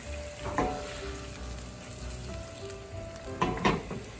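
Wine sizzles steadily in a pan of cooked onions and garlic while deglazing, a soft continuous fry with a few scraping stirs of the pan, quiet and close.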